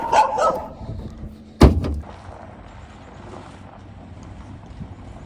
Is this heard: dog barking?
yes